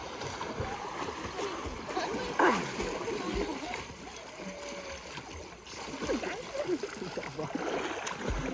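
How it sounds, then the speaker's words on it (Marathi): A person splashes in water at a farmhouse during a family outing, giving a steady churning splatter with one louder splash about a third of the way through, under a continuous wash of ambient noise and faint voices. "दादूस गेला पाण्यात"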